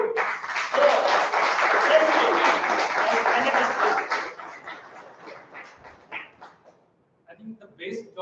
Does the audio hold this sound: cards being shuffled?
no